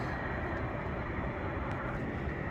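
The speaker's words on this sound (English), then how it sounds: "This ATR now is taxiing in because it's just landed." An ATR turboprop airliner taxis in at an airport after landing, giving a constant, broadband engine roar that stays steady and fairly distant with no talk over it.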